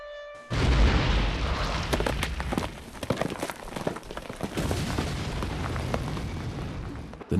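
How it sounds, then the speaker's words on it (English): Explosives detonated underground in a gold mine, heard as a sudden heavy boom followed by a long, dense rumble and crackle of blasting and falling rock, loud and sustained with scattered sharp bursts throughout. "once they're safely above ground, the explosives are detonated"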